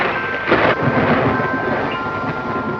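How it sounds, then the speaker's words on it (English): A deep, rolling rumble of thunder swells and fades over steady broadband noise, fairly loud and continuous, like a storm heard from indoors. "Possibly those thunders of our dear Shelley."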